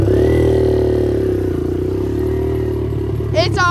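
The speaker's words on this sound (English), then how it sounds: "Dirt bike's running good, so we're going to take this thing for a little cruise." A dirt bike engine with no baffle runs close and loud, a steady raw idle with a slight rise, with a brief voice at the very end.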